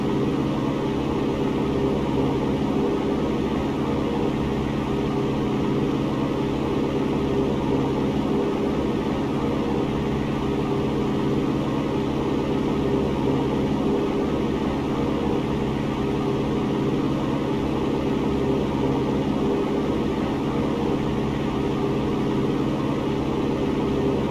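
Steady, continuous drone of a light aircraft engine under climb power in a flight simulator over Washington, a dense broadband hum holding level and constant throughout with no talk.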